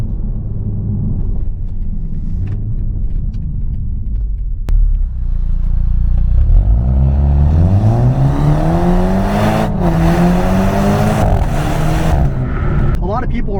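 A 2022 BMW Z4 four-cylinder engine in a fast drive, low rumble climbing into rising harmonic sweeps as it accelerates hard through the gears, heard from inside the cabin with talk over the first seconds.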